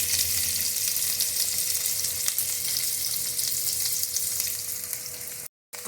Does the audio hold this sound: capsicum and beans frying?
yes